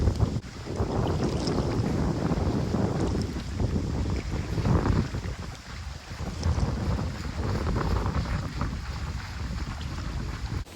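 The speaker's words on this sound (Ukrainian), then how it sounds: "йде дощ, така майже злива починається. Вітер холодний" Gusty cold wind buffets the microphone outdoors in near-downpour rain, a steady rough rush with rain and water noise underneath, rising and easing in waves.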